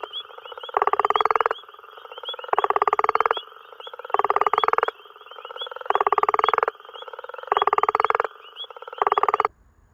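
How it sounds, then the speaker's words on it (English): Painted reed frogs call from sedges in a loud, close series of rapid buzzing trills, each pulsed burst lasting about a second and repeating at a steady rhythm with short gaps. "the high-pitched noise you can hear in the background calling amongst these little sedges here is actually the painted reed frog"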